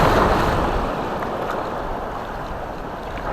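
Strong ocean waves and wind roar steadily around a fishing boat at sea, a broad continuous wash of surf and water movement with no talk, fairly loud throughout.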